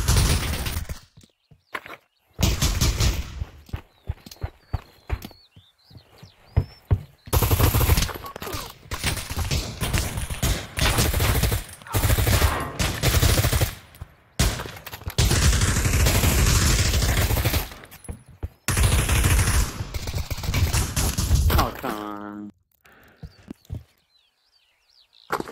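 Bursts of gunfire crack and rattle in a video game firefight, with rapid volleys broken by short gaps and shots landing close around the player.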